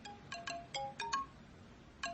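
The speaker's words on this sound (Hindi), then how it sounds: "ऑफिस से फोन है, बात करनी पड़ेगी।" A phone ringtone for an incoming call plays as a series of short, bright electronic chiming beeps in quick irregular bursts, moderately faint over quiet room background.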